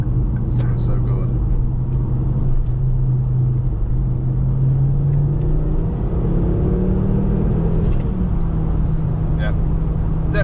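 A Ford Focus ST2 engine hums as the car drives along, a steady low drone with gentle rises and falls in pitch under constant road rumble, loud and close throughout.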